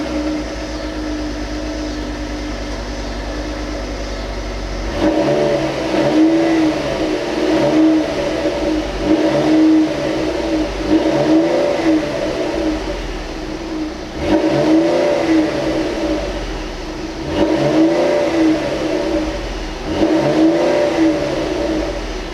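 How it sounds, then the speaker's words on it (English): A 2017 Lincoln MKT engine starts up and is revved in several loud, rising and falling pulses, heard close and alone, with a steady idle rumble between revs. "I'm just gonna start the car, rev it up a bit"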